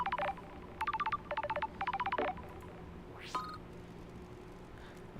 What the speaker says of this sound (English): A phone call from Judge is unexpected.